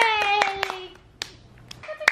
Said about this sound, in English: Oh, Kane's clapping.